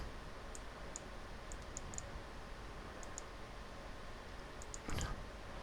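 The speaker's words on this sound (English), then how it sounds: "Now I'm going to just double click there." A computer mouse gives several faint, crisp double clicks in quick pairs spread across a quiet room, with one slightly louder knock near the end.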